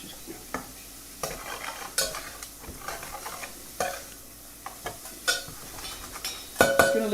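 Garlic is stirred with a metal utensil in a Saladmaster pan. Intermittent scraping and clinking strokes come over a soft sizzle, ending in a brighter metallic clatter.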